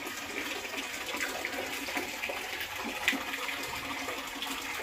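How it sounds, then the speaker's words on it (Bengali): Tap water runs steadily in a home kitchen while a lunch tiffin of rice, dal and boiled potato is packed, a continuous hiss of flowing water with no voices over it. "জলটা বন্ধ করিস না এখনো।"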